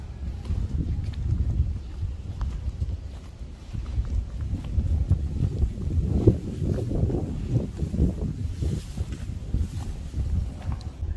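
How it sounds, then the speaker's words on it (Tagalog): Strong wind blows into a single-family house, making a low, rumbling buffet against the microphone that gusts unevenly throughout, with faint thuds and knocks underneath. "masarap yung simoy ng hangin. Malakas siya."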